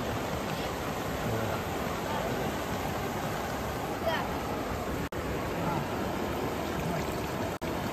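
Flowing stream water at a riverside fishing spot, a dense steady rush that fills the whole stretch with no breaks, apart from two very short dropouts.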